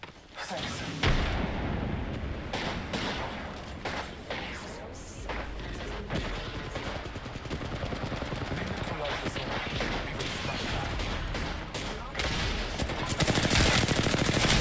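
Apex Legends match with a frag grenade blast and sustained gunfire: dense, loud broadband bursts of rapid shots fill the whole stretch, with heavier booming impacts near the end, and voices appear intermittently.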